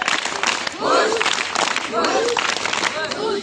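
An audience claps loudly at a school program after a ghazal performance. The dense applause runs throughout, with voices singing and calling over it.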